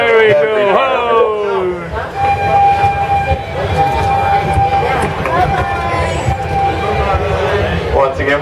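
The Animal Kingdom park train pulls out with rumbling wheels and a long whistle tone over the rolling noise, while an announcer and riders talk.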